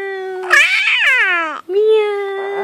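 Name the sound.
child imitating a cat meowing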